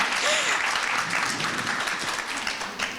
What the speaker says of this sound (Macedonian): аплауз, да.